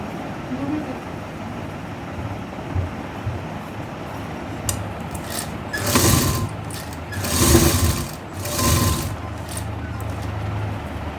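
A sewing machine stitching a neck design on a garment in a boutique, with a low continuous whir and louder surges of stitching toward the end, over a noisy background.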